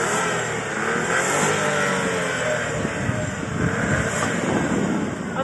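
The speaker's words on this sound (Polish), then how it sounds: "Posłuchamy jeszcze dźwięku silnika." A 2020 Dacia Duster 1.0 TCe running on LPG idles and revs, a steady engine hum with swelling bursts of revving, heard from close by without any talk.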